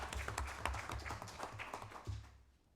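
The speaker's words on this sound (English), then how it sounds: "Just give him a round of applause again." Quiet applause from an audience for a speaker at a clinic event, a brief run of scattered claps at a distance that fades out toward the end.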